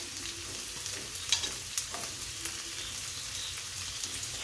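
Carrots and peas stir-frying for fried rice, a steady close sizzle broken by scattered clinks and scrapes of a utensil stirring through the pan, with no voices.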